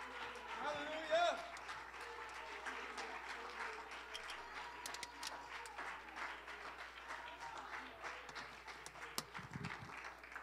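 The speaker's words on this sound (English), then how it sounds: "let's give the Lord another hand clap of praise as you're seated" A church congregation claps in praise during a worship service, a soft, fairly distant spread of clapping running throughout, with voices and exclamations mixed in over it.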